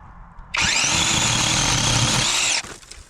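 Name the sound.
battery powered chainsaw cutting small wood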